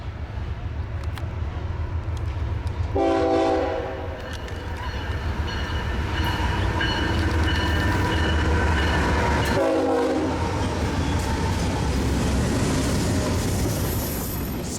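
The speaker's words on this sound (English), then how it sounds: "Directly behind the eastbound BNSF is Metrolink 663, Orange County line service to Los Angeles Union Station." A Metrolink Orange County line commuter train to Los Angeles Union Station passes through Fullerton station, close behind an eastbound BNSF freight, sounding long loud horn blasts over steady rumbling rail and wheel noise.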